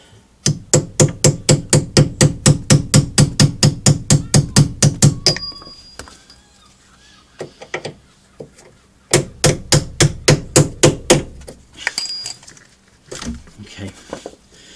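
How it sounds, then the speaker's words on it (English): A hammer taps a bolt out of a Renault Clio drop link in rapid bursts of sharp metallic blows, a long fast run, a pause with a few scattered knocks, then another quick volley, close and loud. "That can just be tapped and wiggled out, the bolt"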